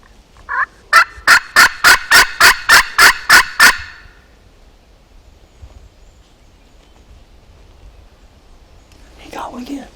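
A wild turkey in Missouri hardwood forest gobbles loudly and close, one short burst followed by a long, rapid run of pulsing gobbles. Quiet whispering and rustling follow in a near-silent woods.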